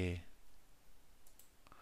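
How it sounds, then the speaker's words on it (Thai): A computer mouse gives a few faint, quick clicks while working in After Effects, heard just after a brief burst of talking at the start. "คลิกนะครับ"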